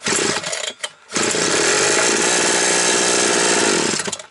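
A Chinese petrol brush cutter sputters briefly, cuts out, then fires up and runs at a steady loud roar before dropping off at the end, heard close with no talk.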